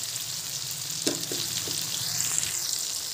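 Prawns fry in a pan with a soft, steady sizzle, and a few faint knocks from a stirring utensil sound near the middle; the scene is quiet and no one speaks.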